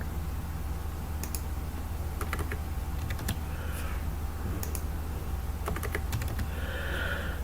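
Someone types on a computer keyboard in short bursts of close, crisp key clicks separated by brief pauses, over a low steady hum.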